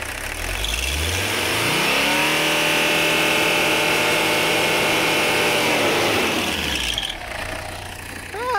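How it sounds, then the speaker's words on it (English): A 1985 Mercedes 300CD diesel engine, long abandoned, revs up loudly and holds a high, steady rev with a rising then falling pitch before dropping back toward a rough idle, heard close with no talk. "Let's see if we can witness the cheech."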